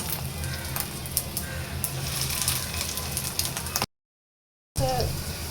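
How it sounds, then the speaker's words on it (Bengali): Fish roe fritters fry in oil, giving a steady, close sizzle with light crackles and stirring sounds. The sound cuts out briefly, then the frying resumes. "ডিমের বড়াগুলো ভাজা হয়ে গেছে"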